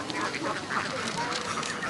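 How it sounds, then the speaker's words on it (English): Ducks bred on a farm in Dong Nai province, Vietnam, quack in a dense, continuous flock chorus, moderately loud and fairly close, with no talk over it. "Winti Loan breeds ducks on her land property in the Dong Nai province"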